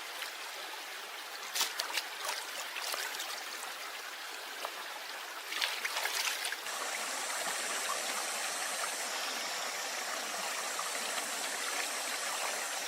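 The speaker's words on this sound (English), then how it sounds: "water flushes away any residual blood or digestive enzymes that could introduce bacteria" Water pours and trickles steadily over a raw fish fillet being rinsed outdoors, a constant near splashing flow with a few brief louder spatters.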